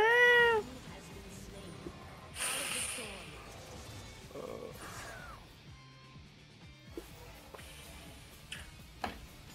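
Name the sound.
cat meowing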